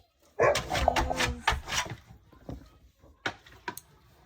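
Farm dogs bark from outside behind a door, a burst of loud barks near the start and a few more scattered later, with some whimpering and scratching between.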